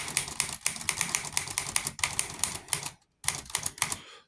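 A Smith Corona Skyriter portable typewriter being typed on, a rapid, close run of crisp key strikes with brief pauses, a short gap of silence near the end before more keystrokes.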